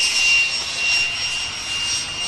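A FoxCub light aircraft flies at full power, its engine holding a steady high-pitched drone with a constant whine, loud and close throughout with no talk.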